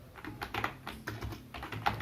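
Quick, uneven clatter of keys on a computer keyboard, a handful of soft taps and clicks at close range, faint and alone without talk.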